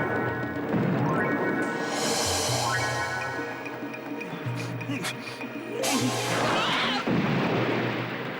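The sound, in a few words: gunfire volley in Sandokan TV series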